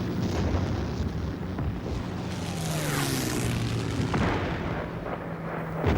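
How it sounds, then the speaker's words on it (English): Tremendous artillery bombardment opening the June 1944 Soviet offensive on the Karelian Isthmus, heard as a continuous dense roar of distant gunfire and rumbling blasts, with aircraft-like drones sweeping through, loud and unbroken throughout. "began their major offensive on the Karelian Isthmus on the 9th of June 1944 with a tremendous artillery bombardment"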